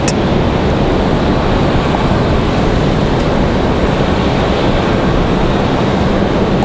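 Southwest Airlines jet departing Raleigh-Durham International for St. Louis, a loud, steady broadband engine roar sustained throughout with no talk.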